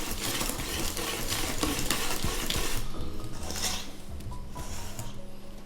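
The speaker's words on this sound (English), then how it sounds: "I'm gonna incorporate that into our butter and egg mixture." Self-raising flour being stirred into a butter and egg mixture for banana bread, a steady scraping and mixing in a bowl that runs throughout, close and moderately loud with no talking.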